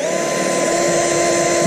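A power drill whines steadily and loud at close range while a 700R4 transmission gets a TransGo 2-3 shift kit installed, holding a constant tone with no pauses for the whole moment.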